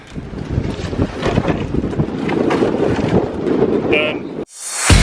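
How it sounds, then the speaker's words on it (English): Strong outdoor wind buffets the microphone in steady, roaring gusts on a hot, windy day, briefly cutting out near the end before surging back loud. "It's been windy."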